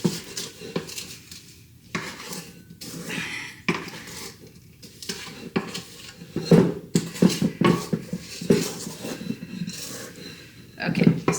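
A utensil scrapes around a mixing bowl of peanut butter cookie dough, with repeated close scraping and clinking strokes in irregular bursts, while a person talks over parts of it.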